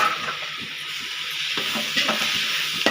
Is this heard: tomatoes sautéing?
yes